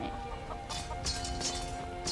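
A chicken clucks in the modded video game Skyrim, with several short clucks and squawks in irregular bursts over a steady background of ambient game sound.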